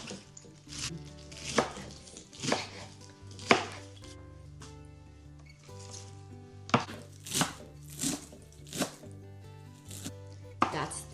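A kitchen knife chops fresh cabbage for pancit bihon on a cutting board, with sharp, uneven strikes arriving in quick bursts and short pauses, loud and close, while soft background music plays underneath.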